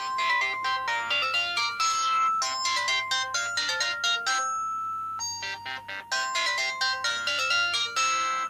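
A telephone ringtone plays a bright melodic tune, repeating in bursts with short pauses between them, loud and close with no one talking.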